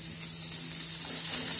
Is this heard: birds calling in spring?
no